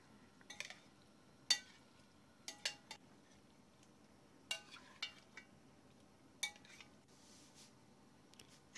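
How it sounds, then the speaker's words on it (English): A spoon stirs pork curry ingredients, tomatoes among them, in a pot on medium flame, giving sparse, irregular metallic clinks and scrapes against the pot, close and fairly quiet, with no voices. "Give them a good stir."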